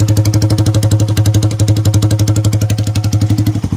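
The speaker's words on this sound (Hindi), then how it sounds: "और ये है विदाउट एग्जॉस्ट" Hero Passion Pro BS6 motorcycle engine running with the exhaust removed, a loud, raw, rapid thumping idle that pulses evenly and stays close throughout, without voices.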